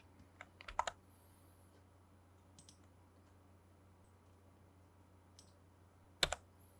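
A few quick keystrokes tap on a computer keyboard while entering commands in AutoCAD. There is a short cluster of clicks, a faint pause, and then one sharper press near the end, set against a quiet room hum.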